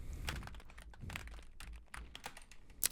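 Computer keyboard typing JavaScript code, a quick irregular run of close, crisp key clicks and taps with brief pauses between bursts.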